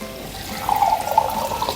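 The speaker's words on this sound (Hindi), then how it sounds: "बस थोड़ा सा इसमें पानी डालेंगे और हल्की आंच पे इसको छोड़ देंगे।" A little water is poured from a tap-like stream into a cooking pan of tomato and onion, a steady splashing pour rising after a quiet start and lasting about a second, with no talk.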